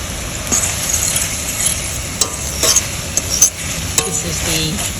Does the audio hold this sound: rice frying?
yes